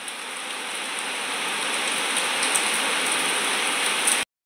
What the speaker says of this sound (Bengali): কত সুন্দর দেখুন বৃষ্টি পড়ছে কত জোরে।